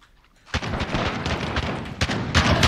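Rapid shotgun blasts in the video game Modern Warfare, several loud close booms in quick succession after a brief quiet start, one sharp shot standing out near the two-second mark.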